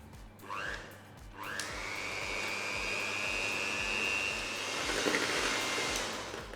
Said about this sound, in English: we're going to start whisking this together on a low speed for a couple of minutes until everything is combined